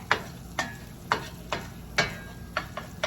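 Browned tomato paste and vodka being stirred in a pan, a spoon scraping in regular strokes about every half second over a faint sizzle, close and fairly quiet with no talking.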